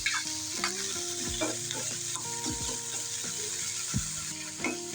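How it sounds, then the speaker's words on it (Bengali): Shrimp and onions fry in hot oil in a pan with a steady sizzle, broken by repeated knocks and scrapes of a spatula stirring, with no voices. "চিংড়ি মাছটা আমি সাথে দিয়ে দেবো, দিয়ে ভালো করে পেঁয়াজ আর তেলের সাথে ভেজে নেবো"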